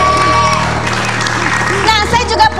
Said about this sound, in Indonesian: ini adalah tepuk tangan dulu dong untuk Andara Early.